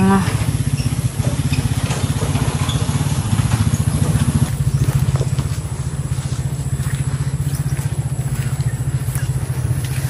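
A motorcycle engine runs close and loud on a muddy rural road with its wheel sunk in mud, a steady chugging drone that revs slightly and then settles, with voices audible faintly underneath.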